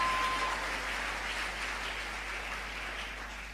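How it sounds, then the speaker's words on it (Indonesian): A church congregation applauding during a sermon, a dense, even patter of many hands clapping at once, moderately loud and gradually fading, with no speech over it. "Saudaraku, tepuk tangan padaku."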